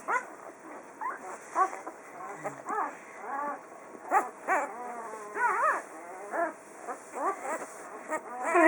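Newborn puppies in their first week whimper and yelp in short, repeated cries, close and fairly loud, with a person talking softly among them.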